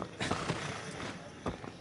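A horse's hooves clip-clop in a few quick, faint thuds as it approaches in the video game Shadow of the Colossus.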